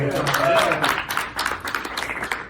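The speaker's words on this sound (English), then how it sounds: "Let's give him a round of applause." A workshop audience claps for a speaker named Patrick, scattered applause heard under and around talking voices, tapering off toward the end.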